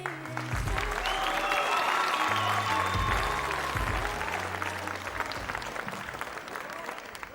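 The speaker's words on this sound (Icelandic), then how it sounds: "Gefið henni gott klapp" An audience at a school music contest applauds a singer, a continuous roar of clapping and crowd noise with music playing underneath, holding steady before slowly fading.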